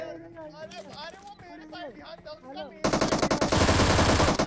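Rapid gunfire in a BGMI/PUBG battle royale game, a sudden loud burst of automatic shots following a stretch of excited talking, continuing densely to the end.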